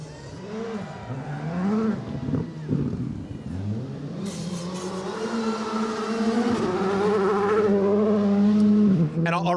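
Rally car on the gravel stage of the Gippsland Rally, engine revving and shifting through gears as it approaches and passes close by, growing louder, with commentary voices underneath.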